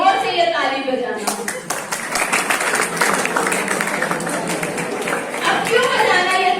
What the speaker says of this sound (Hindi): तब जोर से ये ताली बजाना